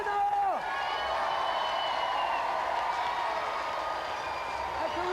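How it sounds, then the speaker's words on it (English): A studio audience at the GamesMaster game show applauds and cheers the winner, dense sustained clapping and whoops holding steady throughout, with a presenter's voice calling over the top at the start. "Big round of applause for the winner!"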